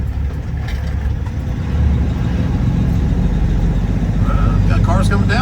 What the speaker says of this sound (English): Got cars coming down it.